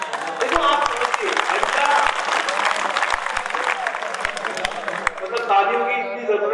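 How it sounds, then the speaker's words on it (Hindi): Audience applause at an exam phobia talk, dense steady clapping from a crowd that carries on for several seconds and begins to thin out near the end. "मतलब तालियों की इतनी जरूरत नहीं थी यहाँ पर"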